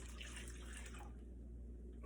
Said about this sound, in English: in goes my can of water into my sauce.